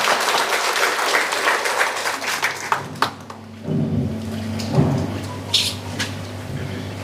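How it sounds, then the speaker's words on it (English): An audience claps at a hospital jubilee programme for the sick and healthcare workers. Dense, steady applause fills the first three seconds, then thins to scattered claps over a low hum and room noise. "let us give clap to all of us ourselves."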